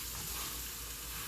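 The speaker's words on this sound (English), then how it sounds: "So we have the pork right in the pan." Pork sizzling in a hot frying pan, a continuous close crackle and hiss of frying fat with no talk.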